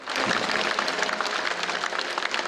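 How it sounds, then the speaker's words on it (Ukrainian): Crowd applauding in a Lviv street as a fallen soldier's coffin is carried out for a funeral procession, a dense, sustained clatter of many hands, fairly loud and continuous throughout, with no talking. "люди стали на коліна і провели його аплодисментами"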